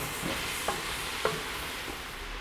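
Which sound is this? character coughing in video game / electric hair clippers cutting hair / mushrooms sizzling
mushrooms sizzling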